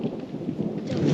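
Thunder rumbles deep and steady through the clouds on an East Sikkim hillside, a continuous low roll with no voices.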